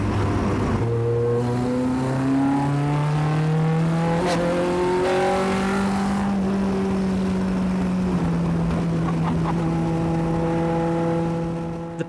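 A Lotus Exige S1 with a swapped-in Honda K20 engine pulls hard under full throttle in sixth gear, its loud rising engine note climbing steadily through the revs with a short dip midway, close and continuous with no talk.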